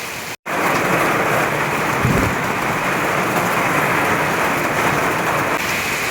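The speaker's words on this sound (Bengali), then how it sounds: "সেই রাত থেকে বৃষ্টি হচ্ছে, এখনো থামেনি, এখনো বৃষ্টি হয়ে যাচ্ছে" Heavy rain that has fallen since the night keeps pouring steadily at dawn, a dense continuous hiss of drops on surfaces, loud and unbroken apart from a brief cut at the start.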